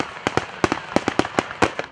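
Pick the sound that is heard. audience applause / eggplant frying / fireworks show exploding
fireworks show exploding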